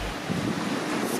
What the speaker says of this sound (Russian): Ветрено, и волны с перехлёстом.